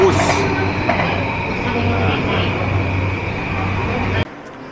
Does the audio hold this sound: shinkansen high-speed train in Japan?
yes